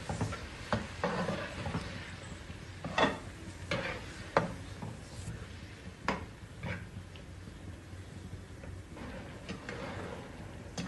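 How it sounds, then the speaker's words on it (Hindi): Black chickpeas being stirred into pulao in a pot, a soft scraping and shuffling with irregular sharper clinks of the spoon against the pot, moderately quiet throughout. "और मैं इसे भी अच्छी तरह मिक्स कर लूँगा।"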